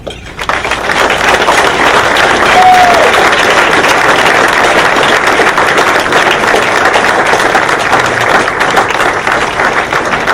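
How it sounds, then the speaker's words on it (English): A banquet audience at a university orthopaedics resident graduation dinner gives a warm round of applause, dense and loud, sustained evenly for about ten seconds with faint cheering mixed in. "please give him a warm round of applause"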